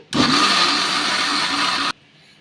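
A mixer grinder runs loud and steady for nearly two seconds, grinding green gram batter for pesarattu, then cuts off abruptly into near silence.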